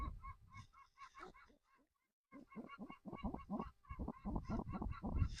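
A racing pigeon gives repeated rhythmic coos in short pulsing bursts, close by, with a brief pause midway before the calls resume more strongly.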